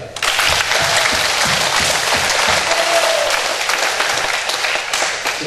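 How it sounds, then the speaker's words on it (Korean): A church congregation at an evening summer revival service claps in sustained, dense applause that starts abruptly and stays loud, tapering slightly near the end. "박수 한번 해요."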